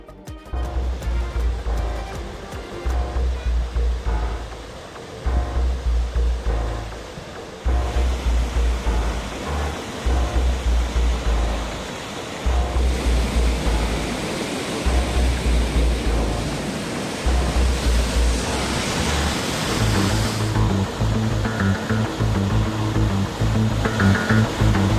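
Canal water gushes out after a bridge's side wall collapsed near Pollachi, making a loud, steady roar throughout, with a rhythmic low thumping beneath it.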